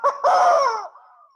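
Rooster crowing within music, one loud, close, drawn-out crow that starts with a short burst and fades over about a second, standing alone without talking.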